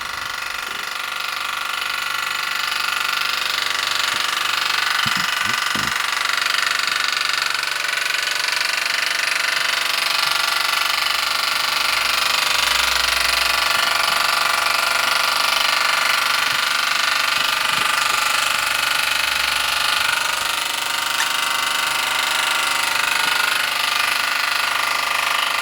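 A pair of Mersey Model Co model steam engines, the Model 51 and another, run on a dual-wick burner, giving a steady, loud, continuous whirring hum with faint mechanical ticking throughout.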